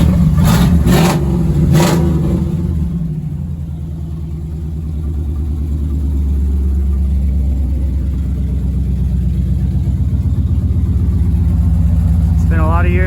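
Chevrolet S10 pickup with a V8, run on old gasoline, idles with a steady low rumble after a few revs at the start, loud and close, with a person talking over it.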